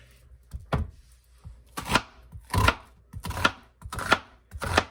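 A knife chops a whole onion on a cutting board in about half a dozen distinct, firm strikes spaced unevenly, each a sharp close thud, with no voices.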